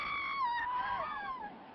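Several high, wavering screams echo from the far end of a palace in the 1958 film Hercules, overlapping in drawn-out cries over a faint hiss.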